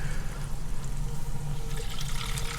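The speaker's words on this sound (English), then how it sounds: "You'll see the water start to come in through all the various filters." Water rushes and gurgles steadily as it fills the filter housings of a reverse osmosis system, a continuous close trickling flow with no talking.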